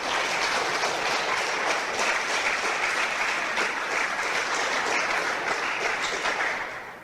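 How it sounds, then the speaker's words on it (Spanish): Congregation applauding in a church service, a sustained, even wash of many hands clapping that holds steady before tapering off at the very end. "Denle una ofrenda de aplausos al Señor."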